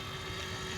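An engine drones steadily at a field, fitting a Hirobo model helicopter, a faint continuous hum with a thin steady whine, heard briefly with no talk.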